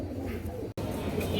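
Pigeons of red-gear breed coo softly at a pigeon sale, a low murmuring coo running through the whole short stretch, faint and close, with no voices.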